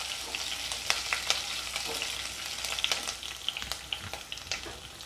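Garlic sizzling steadily in hot oil in a pan, with green chillies tossed in, giving a continuous crackling fry broken by scattered sharp pops and stirring scrapes, close and moderately loud with no voices.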